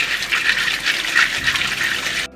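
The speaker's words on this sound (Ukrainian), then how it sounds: "Промиємо водою, практичною гарно, щоб воно було чистеньке." Running water splashes steadily over pawpaw seeds being rinsed clean, a continuous close hiss and patter of liquid with no voices.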